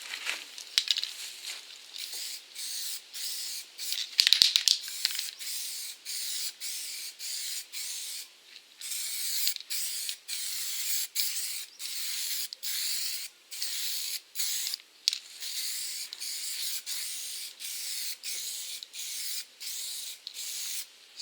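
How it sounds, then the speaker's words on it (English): A spray can of primer hisses in repeated bursts of a light coat, each lasting a second or so with short gaps between, close and steady throughout. "So now I'm going to start spraying."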